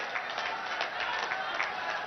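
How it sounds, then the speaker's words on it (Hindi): A large outdoor crowd at a political rally in Fatehpur, Uttar Pradesh, claps and cheers to welcome Prime Minister Narendra Modi, a dense continuous wash of applause with a voice faintly underneath. "तालियों की गड़गड़ाहट के साथ माननीय प्रधानमंत्री जी का स्वागत"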